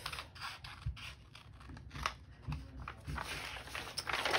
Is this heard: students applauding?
no